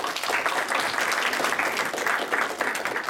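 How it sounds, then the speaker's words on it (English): Audience applause at an evening talk welcoming an entrepreneur to speak, a steady wash of many hands clapping at moderate level throughout, with no voices above it. "Let's give him a big round of applause."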